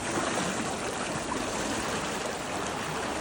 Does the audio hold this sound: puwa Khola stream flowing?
yes